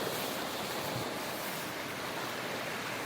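Ocean waves wash onto a sandy beach in a steady, broad roar with wind mixed in, unbroken and fairly close throughout, with no voices.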